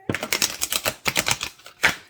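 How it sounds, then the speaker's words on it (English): A deck of playing cards being shuffled by hand, a close run of sharp rapid riffling clicks in quick bursts with a brief pause and a final flurry, fairly quiet and alone. "Shuffling cards is really an art form."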